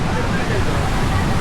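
Strong waves breaking on a rocky shore, a loud continuous roar of surf filling the whole stretch without pause.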